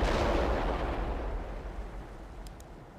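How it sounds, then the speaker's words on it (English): Artillery barrage in the World in Conflict strategy game, a heavy booming blast with a long rumbling decay that slowly fades, and faint short pops near the end. "Coordinates sent. Fire the barrage."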